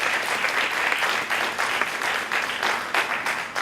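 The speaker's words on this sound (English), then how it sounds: "Let's give her a round of applause." Audience applause at a school board meeting honouring a salutatorian, a dense, sustained round of clapping from a sizeable crowd, fairly loud and steady throughout.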